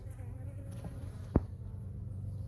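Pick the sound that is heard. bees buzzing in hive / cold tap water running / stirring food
bees buzzing in hive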